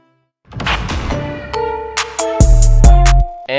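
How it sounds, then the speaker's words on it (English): A contact tone sound effect rings out in a beat during a drumless section before the drop, bright chiming tones stepping over a deep bass that enters halfway, all alone without talk. "and so I added like a contact tone."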